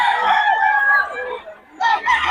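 Roosters at a gamefowl farm in Bocaue crow loudly and close by, one long strained cock-a-doodle-doo followed by the start of another after a brief pause, with no talk.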